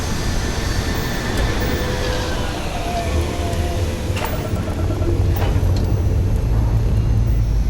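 Spaceship engines in Starfield lift off with a steady, loud, broadband roar and rumble that holds throughout, a few brief higher bursts flaring over the sustained thrust.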